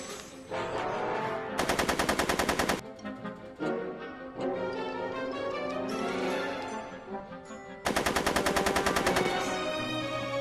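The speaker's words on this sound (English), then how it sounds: "Are you shooting at me?" Bursts of automatic gunfire in the Back to the Future Telltale video game, two loud rapid volleys of machine-gun shots separated by stretches of music and game ambience.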